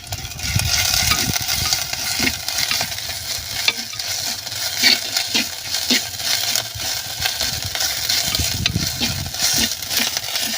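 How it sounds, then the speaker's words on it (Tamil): Ginger garlic paste sautéing in a pan while a soup of country chicken is cooked, a steady broadband sizzle with frequent scraping stir strokes and light clinks, close and continuous, no talking. "இஞ்சி பூண்டு நல்லா வதங்கிடுச்சு."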